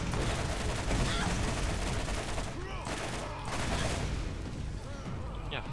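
Gunfire in the Borderlands shooter game, a dense continuous barrage of overlapping shots. Excited voices talk over it throughout.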